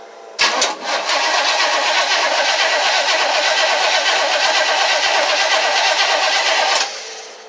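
Big-block 454 gasser engine in a 1963 Nova SS cranking and firing up, then holding a loud, steady roar close by for about six seconds before cutting off.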